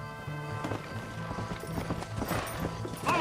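Horses gallop with steady clip-clop hoofbeats in the Red Dead Redemption video game, the rhythmic pounding running throughout beneath music-like tonal layers, with a brief shout near the end.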